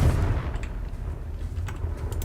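Confringo fire-blast spell cast in the Hogwarts Legacy video game: a loud, continuous low rumbling boom that rolls on for a couple of seconds, with faint crackling flickers on top and no talking.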